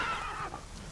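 Roach the horse in The Witcher 3 gives a short, close whinny that fades into a low rumble of background game ambience.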